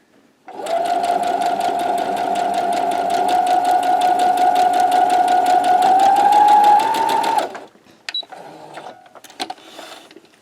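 A sewing machine runs continuously for about seven seconds, chain piecing quilt block pieces, with a loud, close, rapid mechanical stitching hum that rises slightly in pitch, then stops and is followed by faint handling clatter.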